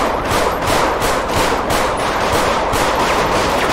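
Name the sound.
gunshots in a video game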